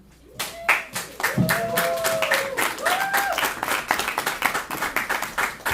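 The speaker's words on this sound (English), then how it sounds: "Keep those claps going, keep those claps going" An audience claps after a poetry reading, steady dense applause close by with a few whoops over it, continuing throughout.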